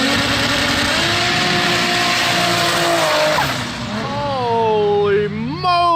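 Polaris RZR fitted with a 1300HP 2JZ engine doing a dirt pull, screaming at high revs, then dropping off and revving in sharp rising bursts, loud and close, with voices shouting over it.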